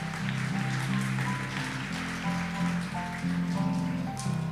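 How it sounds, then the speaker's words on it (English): Audience clapping at a startup pitch event on proptech and real estate, a steady, fairly soft patter of many hands continuing through the whole stretch with no talk over it. "You can stop clapping and start snapping your fingers"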